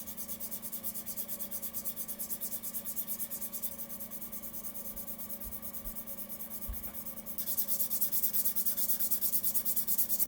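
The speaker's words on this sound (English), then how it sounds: "I'm going to rub my finger across all three of these mice next to the mic" A fingertip rubs across the plastic shells of three computer mice, including a Lamzu Atlantis Mini with a new coating, held close to the mic. The dry, steady friction hiss continues throughout and grows louder and brighter near the end.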